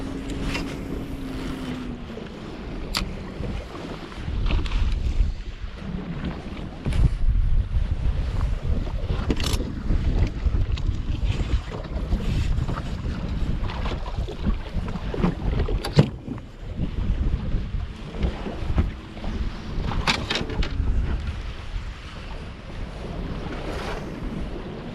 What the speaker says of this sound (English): The wind is blowing today, so we will see what happens.